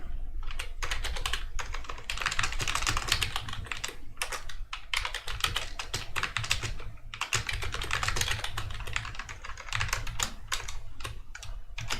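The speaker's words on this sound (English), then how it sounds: "Can't type today." Steady fast typing on a computer keyboard, close and continuous for about twelve seconds with a few short pauses, keys clattering alone with no talk.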